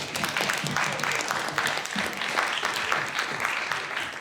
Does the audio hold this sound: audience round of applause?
yes